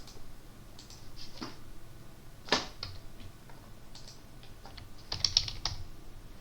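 Close, fairly soft typing on a computer keyboard in short bursts of key clicks with a couple of sharper strikes, no talking.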